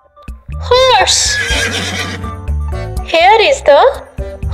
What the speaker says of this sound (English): Here is the horse.